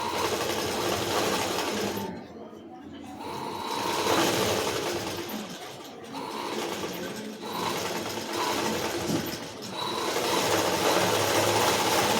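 A sewing machine stitches a double seam on a collared blouse, whirring loudly in long continuous runs broken by short pauses, close by with no talk.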